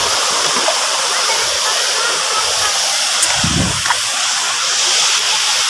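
Pamayan Falls in Palawan roars as a loud, steady rush of falling water close by, a dense unbroken wash of noise with a faint voice briefly under it.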